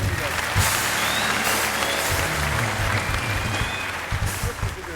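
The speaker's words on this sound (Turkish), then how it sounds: "Alkışlar kardeşim." A studio audience at a Turkish comedy show applauds steadily for several seconds, dense clapping filling the room, with a voice briefly audible beneath it.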